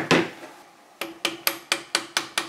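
A 2.5 mm pin punch is tapped with a hammer to drive out the rear sight retaining pin on a Gewehr 98 Mauser rifle, sounding as one sharp metallic strike followed by six quick, evenly spaced taps close up.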